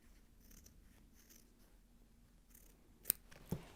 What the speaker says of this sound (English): I'm just going to take my scissors, and now I'm cutting on the line